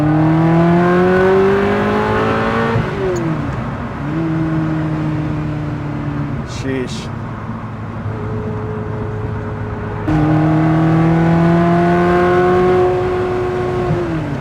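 A Ferrari 360 Modena Spyder with manual gearbox revs hard and loud, its pitch climbing and dropping through several gear shifts to about 5,500 RPM, with a brief exclamation from a person midway.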